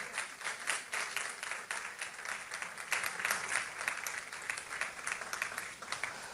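Rhythmic clapping from a church congregation, fairly quiet and steady, clapping together in time.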